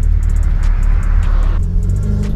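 A VW Gol's engine runs steadily at close range after a new radiator was fitted, giving a loud, deep, continuous rumble with slight shifts in tone and no talking.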